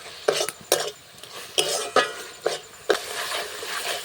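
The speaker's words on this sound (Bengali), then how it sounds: "আবারও আলু ভাজা আর খোয়াকির ভাজার সঙ্গে মশলাটা মিশিয়ে দিচ্ছি" Fried potatoes and khoya being stirred with spice paste in a pan for rosogolla korma, a spoon scraping and knocking the metal in about seven sharp, irregular strokes over a faint steady background, close and without talk.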